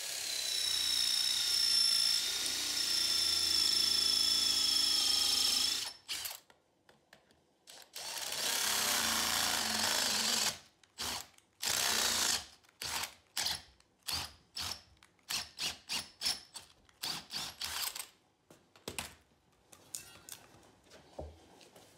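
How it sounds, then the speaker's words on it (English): A drill bores through a race propeller bush: two sustained, loud grinding runs of several seconds each, followed by a rapid series of short, stuttering bursts as the bit works through, close and without talk. "So that bush is now drilled through, which is great."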